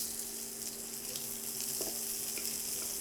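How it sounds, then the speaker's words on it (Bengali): Onions sizzle steadily in oil left over from frying bitter gourd, a constant close hiss with faint crackles and no voices. "করলা ভেজে উঠিয়ে নিলাম আর সেই তেলটার মধ্যে আমি পেঁয়াজ দিয়ে দিচ্ছি কিছুটা"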